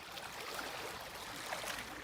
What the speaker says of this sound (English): Got the sound of the waves crashing right beside our tent, literally.